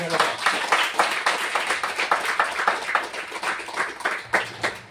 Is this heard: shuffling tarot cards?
no